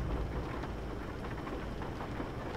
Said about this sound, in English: it's starting to rain too